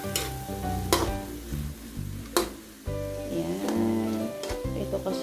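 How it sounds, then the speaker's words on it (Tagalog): Galunggong fish dish stirred in a sizzling pan, a steady frying hiss with a spoon scraping and clanking against the metal every second or so, close and moderately loud. "Ayan, haruin natin."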